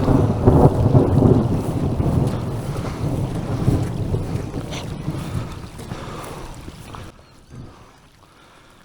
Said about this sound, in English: And there's thunder.